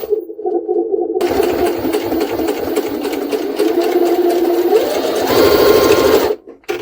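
A Jaguar SJ-23 sewing machine stitches through thick layers of linen and leather with a loud, close, continuous motor whir that rises in pitch toward the end before stopping abruptly.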